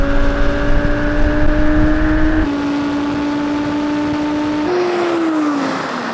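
An Audi V10 pulls hard through a drag race, its engine note climbing steadily before a gear change drops the pitch and it winds up again, loud and close with no talk.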